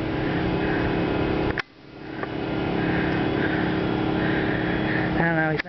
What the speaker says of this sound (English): But, of course, the sound of the generators.